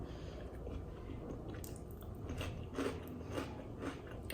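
A crunchy homemade snack is bitten and chewed close up, with soft crunching and squishy mastication growing a little louder toward the end, and no talking.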